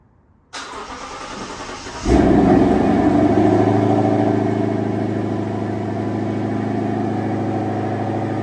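A tuned Lexus LC500 fires up by remote start: a brief electrical whir, then the engine catches with a loud rising roar at about two seconds and settles into a steady, close idle.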